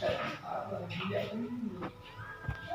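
A dog whimpers in thin, wavering whines beneath people talking close by, with a couple of sharp knocks in between.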